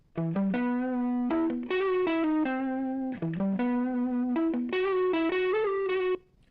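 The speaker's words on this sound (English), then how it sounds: "We can do a low-pass filter to cut off these highs." A buzzy, distorted synthetic tone from a clipped waveform through a low-pass filter plays a short melodic phrase twice, gritty and guitar-like with softened highs, steady and alone.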